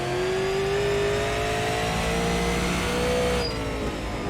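A Super Late Model race car engine in the iRacing sim at New Smyrna Speedway drones loudly and continuously, its pitch rising steadily under acceleration after a green-flag restart, with a brief dip near the end.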